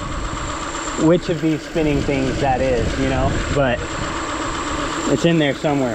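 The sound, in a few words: Ford Fiesta engine idling with faint warble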